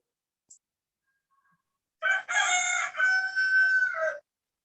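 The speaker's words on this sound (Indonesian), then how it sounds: "Ada ayam." A rooster crows once, loud and close, in a long drawn-out call that stands alone against near silence, preceded by a faint brief tick.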